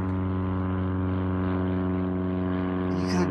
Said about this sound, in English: That guy's got the slowest, loudest plane.